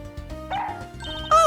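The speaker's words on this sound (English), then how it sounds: "Oh, it's a Shiba Inu!" A Shiba Inu barks in the Ace Attorney Investigations 2 video game, a few short yipping barks close up over game music.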